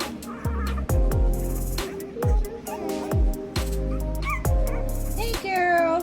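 Bulldog puppies yip and whimper nearby in a repeated run of short, high-pitched cries and squeaky whines, with brief pauses between, and a person's voice comes in at times.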